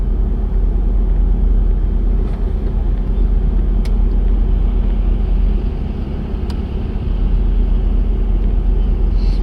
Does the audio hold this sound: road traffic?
yes